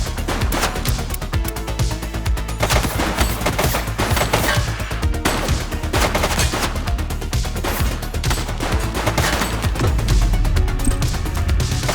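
Continuous loud gunfire in the police game The Precinct, rapid overlapping shots and automatic bursts forming a dense, unbroken barrage for the whole stretch, with no talking.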